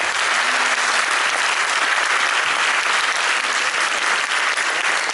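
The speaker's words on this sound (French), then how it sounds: "Maxime, Cécile, Sébastien, Amaury, qu'on peut également applaudir, je crois." Steady, dense applause from a large audience at a junior mass band event in Grande-Synthe, continuous and loud throughout with no pauses.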